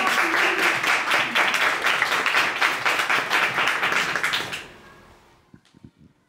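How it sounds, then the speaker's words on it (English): Audience applause following the introduction at a talk on mutual aid, a dense burst of many hands clapping that fills the room, then fades out over the last couple of seconds into near silence with a few stray claps. "So thank you very much for that, and a big round of applause."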